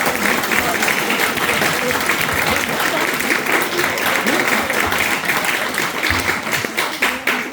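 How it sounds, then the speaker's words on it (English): Audience applause at an Eagle Scout ceremony, a dense, steady round of clapping from a seated crowd that fills the room loudly and continues without pause throughout. "You may applaud."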